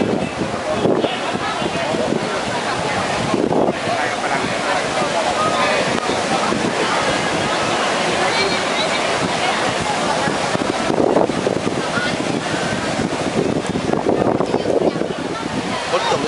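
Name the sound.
sea waves on Koh Samet beach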